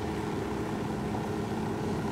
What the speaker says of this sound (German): Kommt uns gerade mal ein Flugzeug entgegen.